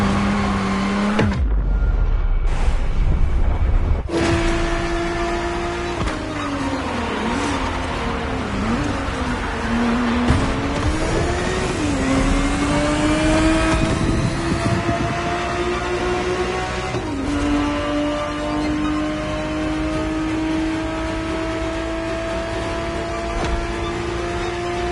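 Ferrari 365 GTB4 engine from The Crew racing game, loud and steady, its pitch climbing and dipping through gear changes with sustained revving and no talk.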